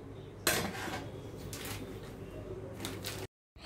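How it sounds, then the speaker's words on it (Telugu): Rice being mixed in a pot with a spoon while preparing coconut milk biryani in a pressure cooker, giving a steady scraping and rustling with occasional metallic clinks, close and fairly loud, cut off briefly near the end. "బియ్యం వేసుకున్న వెంటనే ఒకసారి ఇలా బాగా మిక్స్ చేసుకోవాలండి"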